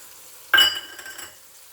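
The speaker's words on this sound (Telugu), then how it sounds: "అల్లం వెల్లుల్లి పేస్ట్ వేసుకోవాలండి." Ginger garlic paste hitting a hot pan for sorakaya chepala pulusu, bottle gourd fish curry, giving a sharp sudden sizzle that fades quickly into softer crackling, close and alone.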